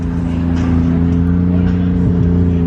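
A BMW wagon swapped with a Toyota 2JZ engine drives past at a car meet, giving a steady, loud low engine drone with a slight pitch shift near the end as it moves by.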